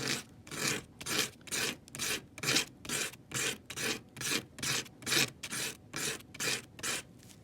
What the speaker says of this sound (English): You can just use a piece of, in this case it's 220 sandpaper.